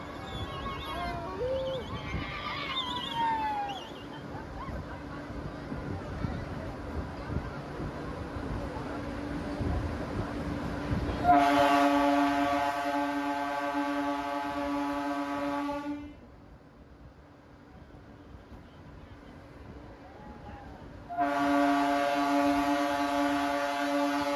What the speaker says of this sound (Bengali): পৌঁছে গেলাম এসে রায়নগর স্টেশন।